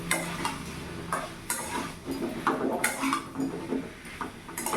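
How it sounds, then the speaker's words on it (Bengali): Pumpkin sautés with kasuri methi in a pan, giving repeated scraping stirs of a spatula over a low sizzle, close and steady with irregular strokes. "আমি কষিয়ে নেব যাতে কাসুরি মেথির ফ্লেভারটা চলে আসে"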